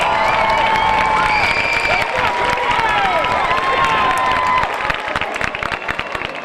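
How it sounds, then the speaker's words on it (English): A crowd at a high school graduation ceremony applauds seniors, with dense, loud clapping and cheering that holds steady, then thins out and fades near the end, with a few whistles and shouts in the mix. "If you took part as seniors, give them a big round of applause."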